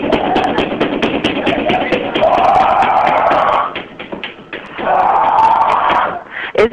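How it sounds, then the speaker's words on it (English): Heavy, rapid banging on a hotel door comes in two long bursts, loud and close. A voice making monkey-like noises runs over the knocking. "if you could go ahead, continue the banging and the monkey noises"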